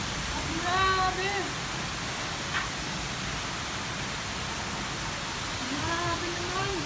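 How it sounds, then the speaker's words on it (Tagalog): Heavy rain pours as a steady, dense roar throughout, loud and constant, with a few short tonal chirps on top near the start and again near the end. "tingnan nyo, ang lakas ng ulan."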